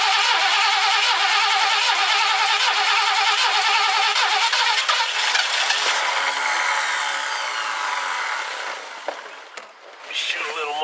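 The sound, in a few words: 1969 Ford Econoline van engine cranking and trying to start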